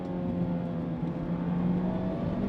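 A 2024 Mazda MX-5 with a manual gearbox accelerates through a corner, its engine holding a steady droning hum with road and wind noise, close and continuous.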